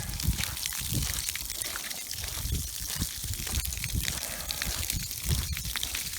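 Water from a hose runs into the end of a frozen culvert with a steady trickling, splashing rush, close and continuous, carrying a faint low rumble underneath.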